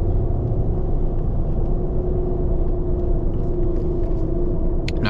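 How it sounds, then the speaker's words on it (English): Tires on a lifted Ram 1500 pickup with a 9-inch lift roar steadily on asphalt. The drone is loud and continuous, with a deep rumble heard from inside the cab. "Tire and asphalt, that's all you need to hear."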